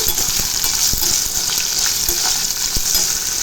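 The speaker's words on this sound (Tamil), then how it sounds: "சவு சவுக்காய் இதில் போட்டுடலாம் போட்டு நல்லா இதை வந்து வதக்கிடலாம்" Chayote, also called chow chow, sautéing in hot oil for a buttermilk kuzhambu, giving a steady close sizzle with a few sharp ticks and spatters and no voices.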